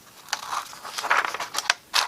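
Scissors cutting paper while folding an origami box, several short crisp snips and crinkles in an irregular rhythm, close and fairly quiet, with no talk.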